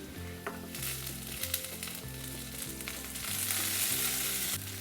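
Chopped garlic and green chillies frying in oil in a pan, a steady close sizzle with occasional stirring scrapes, getting a little brighter and louder near the end.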